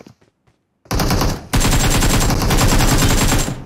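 Automatic gunfire in PUBG Mobile: a long, loud sustained burst of rapid shots starting abruptly, a brief pause, then another continuous barrage running for several seconds before cutting off.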